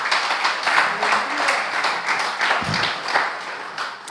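A church congregation claps during a sermon, a dense, steady wash of applause carrying on throughout with a faint voice underneath.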